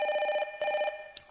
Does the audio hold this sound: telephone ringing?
yes